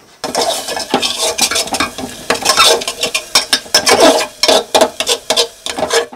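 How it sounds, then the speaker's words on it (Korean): Chopped tomatoes and garlic sautéed in butter for garlic soup, with a utensil scraping and clacking against the pan in quick rhythmic strokes over a steady sizzle, close and loud. "잘게 썬 토마토와 마늘을 버터에 볶아 마늘 수프를 만드는 중입니다"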